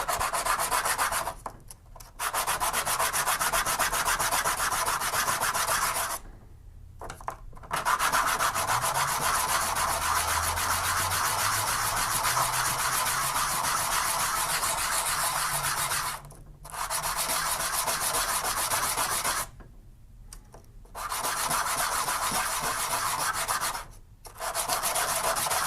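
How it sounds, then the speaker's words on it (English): A ring being sanded by hand with 120 grit sandpaper, a close steady scratchy rubbing in long continuous strokes broken by several brief pauses, with no talking. "This is 120 grit sandpaper, so that I'm using."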